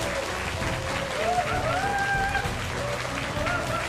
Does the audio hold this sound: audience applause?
yes